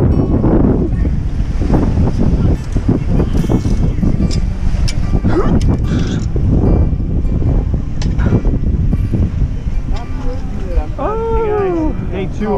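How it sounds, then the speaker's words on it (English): Onshore wind buffets the microphone on an ocean beach, with a continuous roar and surf washing beneath it while people talk nearby. "Winds are onshore, waves are kind of so-so."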